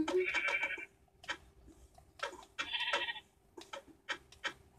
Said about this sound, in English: Sheep, come back here.